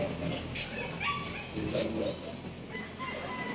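Dogs bark at Grotto Pet Market in Bulacan, a Philippine pet market with Pomeranian, English Bulldog and bully breeds. Short barks and yelps come over a steady crowded background, with chicken-like clucks mixed in.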